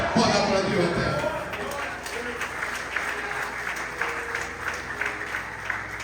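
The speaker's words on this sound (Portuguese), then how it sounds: "Pode aplaudir o eterno." A church congregation at a family worship service bursts into applause, loudest at the start and then settling into sustained, scattered clapping that carries on at a steady level.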